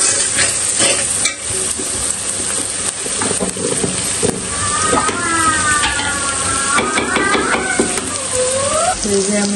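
Beef cooking with cardamom, cinnamon, salt and spices in a pan, loud continuous sizzling and frying with stirring scrapes, and faint tonal sounds partway through.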